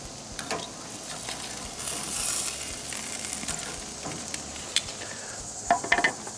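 Steaks sizzling in a pan after being flipped, a steady close crackling sizzle with a brief hissing swell and a few light taps from handling near the end.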